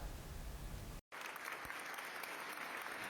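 Long applause from an audience greeting a monastery choir from Bigorski Monastery after a performance at an Orthodox church music festival in Athens; steady clapping cut by a brief gap, then continuing evenly.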